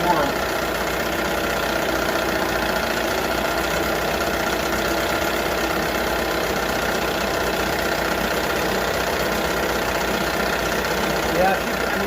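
A 1978 Johnson 6hp outboard motor idles as it warms up after a water pump impeller replacement, a steady, loud, unbroken mechanical drone with no rev changes, and talk is heard over it.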